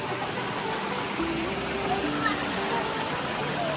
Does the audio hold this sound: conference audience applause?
no